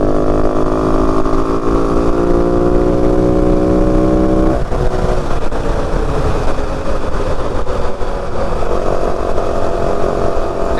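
A 2025 Yamaha WR 450F dirt bike running at speed in fifth gear on a ride through the Santa Ritas, with a loud steady engine drone and rushing wind noise. The engine pitch shifts partway through.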